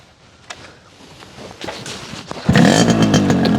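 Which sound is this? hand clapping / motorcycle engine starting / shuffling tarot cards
motorcycle engine starting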